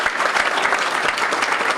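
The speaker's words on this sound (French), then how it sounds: "qu'on les applaudisse" An evening audience applauds members of the Fraternité Notre-Dame as they stand alongside their Monseigneur, a dense, loud, continuous burst of clapping from many hands.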